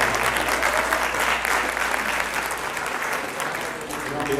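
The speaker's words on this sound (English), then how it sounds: "Give Baylor Grego one more round of applause" An audience applauds an auctioneer at an FCCLA dessert auction fundraiser. The clapping is continuous and fairly close, with no speech over it.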